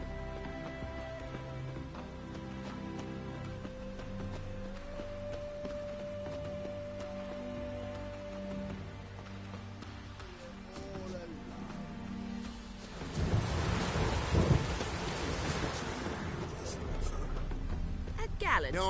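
Steady rain pours in a stormy Witcher 3 game scene, a constant hiss throughout, growing heavier and louder in the last third; a low tonal hum runs beneath it early on, with no distinct thunder crack.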